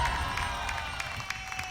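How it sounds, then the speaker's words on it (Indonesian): Television studio audience applauding a magician on The Great Magician talent show: a steady wash of clapping and crowd noise, moderately loud, fading slightly, with scattered louder claps. "kasih dong yang paling kencang tepuk tangan untuk Robby Konstantin"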